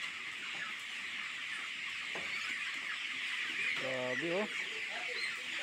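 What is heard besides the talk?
chickens clucking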